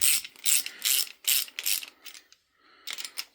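Ratchet socket wrench tightening bolts on a 1994 Jaguar XJS V12, producing close, crisp bursts of rapid clicking in repeated back-and-forth strokes, a short pause, then another burst, with no talk over it.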